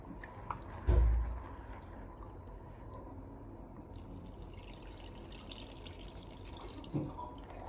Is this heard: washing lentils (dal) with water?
yes